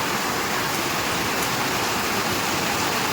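A loud, unbroken wash of heavy rainfall drums down close by, even and continuous.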